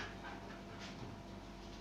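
Several calm dogs panting indoors, a steady close breathy rasp that runs continuously without a break and with no talking.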